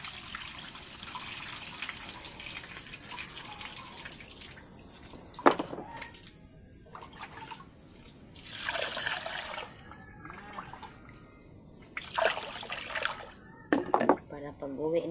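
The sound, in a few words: running water while washing dishes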